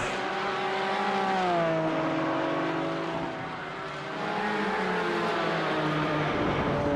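Racing engines of white Porsche Cayman cars in a sim racing video game tournament, a steady whining drone with pitch sliding down and back up as the engines rev and shift, continuous and fairly close.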